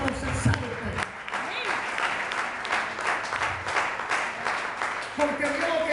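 A church congregation bursts into sustained, dense applause during a sermon, the clapping loud and close and continuing for several seconds, with a voice speaking briefly over it.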